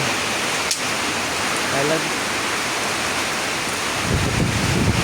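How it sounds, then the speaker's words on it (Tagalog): Heavy rain pours in a dense, steady hiss with gusting wind, loud and close, while a voice speaks faintly underneath. "ulan nga dala hangin"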